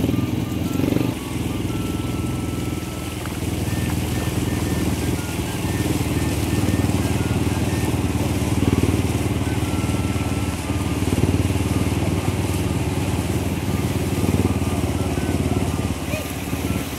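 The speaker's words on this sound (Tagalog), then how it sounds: "ayan yung mga motor, yung ibang tricycle" Steady engine drone of motorbikes and tricycles going by on a busy road, continuous and fairly loud, with faint voices mixed in.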